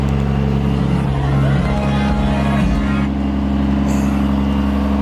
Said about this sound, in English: I got her at a high idle right now, trying to get her up to about 190 and see if I can build any pressure